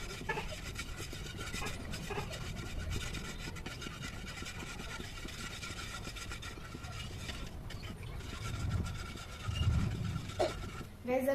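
Kheer simmering in a pot as a spoon steadily scrapes the bottom and sides, a continuous close rasping and rubbing that swells louder in brief strokes near the end, with no talking.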